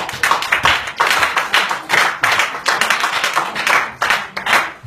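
Church congregation clapping in praise of the Lord, loud rhythmic hand claps in a steady repeated beat, close and sustained with no talking.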